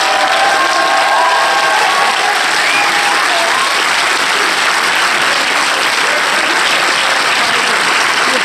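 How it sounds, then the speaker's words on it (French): Audience at a film premiere applauds and cheers in a loud, steady wall of clapping that continues throughout, with a few whistles and shouts near the start. "Faites du bruit pour Redouane Bougueraba"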